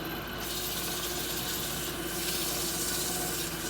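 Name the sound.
sanding wood for a wig stand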